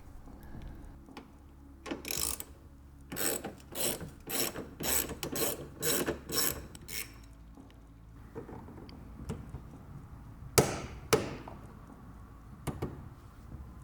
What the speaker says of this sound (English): So we're going to take this 10mm bolt out